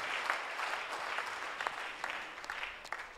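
Congregation applauding at a church gathering marking a 16th edition celebration, steady clapping from many hands filling the space, with sharper individual claps standing out near the end.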